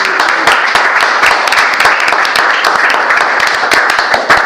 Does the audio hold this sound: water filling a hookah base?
no